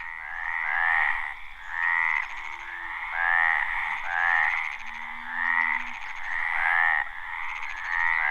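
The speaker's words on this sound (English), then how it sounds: "The Mediterranean tree frog is one of the smallest amphibians in Europe" Mediterranean tree frogs calling at night in Monfragüe National Park, Spain, with loud repeated rasping croaks in a steady pulsing chorus, close and clear with no talking.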